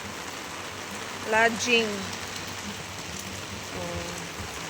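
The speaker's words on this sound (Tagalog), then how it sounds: "ang lakas ng ulan" Heavy rain pours at an agri-tourism park, a steady close hiss throughout, with a person briefly speaking over it.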